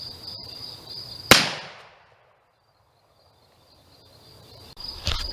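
A single sharp, loud crack from a Remington Baby Rolling Block rifle chambered in 444 Marlin, fired at 50 yards, trails off into silence; outdoor insect chirping sits faintly in the background.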